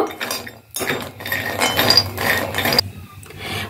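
Cashew nuts roasted dry in a pan, with repeated metallic scrapes and clinks of a spoon stirring against the metal, steady and close over about three seconds, then a brief quieter pause near the end.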